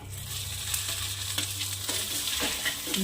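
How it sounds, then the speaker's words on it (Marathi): Okra thecha frying in a pan over low gas: gentle continuous sizzle with a low hum, broken by several soft scraping stir strokes, close and quiet, with no talking. "थोडंच परतून घ्यायचं आहे स्लो गॅसवर आणि चवीनुसार मीठ टाकू आता आपण हा ठेचा टाकायचा आहे"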